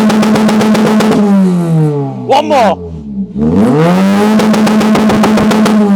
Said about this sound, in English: Triangle exhaust pipes, which sound something like this.